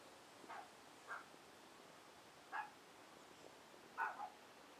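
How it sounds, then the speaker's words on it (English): A dog barks several times in the background, faint and separated by pauses, with a few short yips in a quiet indoor setting. "That dog barking is our dog"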